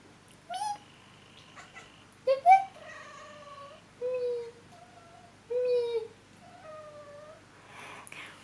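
A cat meows repeatedly indoors, several drawn-out, rising and falling calls spread across the stretch with short pauses between them, fairly close and clear over a quiet background.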